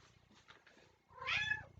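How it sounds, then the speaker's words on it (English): A single close cat meow, rising and falling in pitch, comes after a stretch of faint low rumbling and soft rustling. "I hear my kitty coming."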